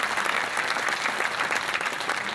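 Crowd at a Kori Samaj community conference claps in sustained, dense applause, loud and even throughout with no voices over it.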